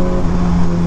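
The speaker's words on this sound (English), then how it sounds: "they sound so good when they downshift" A motorcycle engine downshifts close by, giving a steady loud droning hum with little pops, running alone without any talk.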